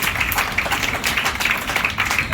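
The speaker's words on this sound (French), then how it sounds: "On peut applaudir." Lecture audience claps at a traditional medicine talk, a brief burst of dense, fairly close applause that holds steady for a couple of seconds.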